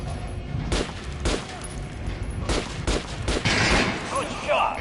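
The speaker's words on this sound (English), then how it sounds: "Try shooting for the center of the regular dummies" Gunfire at practice dummies on a shooting range in the video game Metro, with several sharp separate shots spaced through the clip over steady low game ambience.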